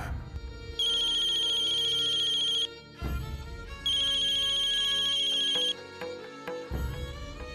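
A telephone rings loudly in two long electronic bursts with a short break between them, alone with no talk, in a Hindi horror TV serial.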